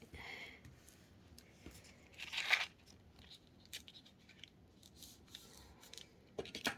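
Scissors trim folded paper at a crafting desk for a tiered matchbook. Several quiet, close snips and rustles come in short irregular bursts against near-silence.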